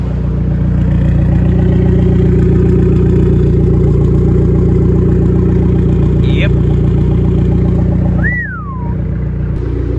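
An Abarth 595 Turismo engine drones loudly and steadily with a deep, rich low hum, heard close from inside the car. The note holds even throughout, with a brief dip near the end.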